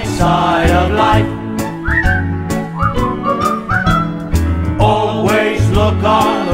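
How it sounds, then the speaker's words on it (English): A person whistles the melody of a song over a musical backing, with clear sliding and sustained notes carrying the tune for several seconds. "just purse your lips and whistle, that's the thing"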